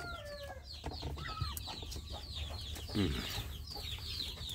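Several free-range village chickens cluck and chatter continuously at close range around nesting spots, with a low squawk midway and faint background noise throughout.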